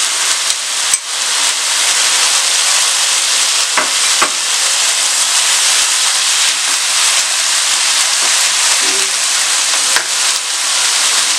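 Yogurt poured into chicken frying with chilies in a pan, producing a loud, steady sizzle and hiss that continues throughout, with a few faint clicks of utensils and no talking.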